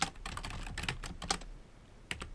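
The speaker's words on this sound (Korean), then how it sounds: "저는 그냥 타이핑할게요" Typing on a computer keyboard, a quick close run of key clicks in irregular bursts with brief pauses, heard alone.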